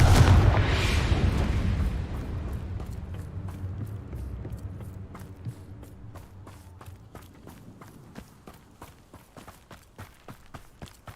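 A Confringo blasting spell explodes in the Hogwarts Legacy video game, a loud boom at the start that fades over a couple of seconds, followed by a run of sharp, regular clicks and thuds like footsteps.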